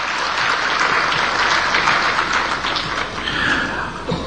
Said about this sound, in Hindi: इसके लिए आपको राजस्थान सरकार के लिए ताली बजाकर बधाई देनी चाहिए